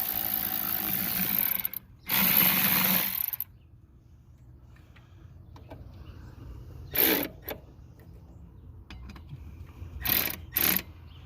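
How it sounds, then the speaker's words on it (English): A ratchet tightens a hose clamp on a cold air intake in three separate bursts of clicking, loud and close, with quiet gaps and faint handling noise between them. "He's just going to go ahead and tighten up the clamp."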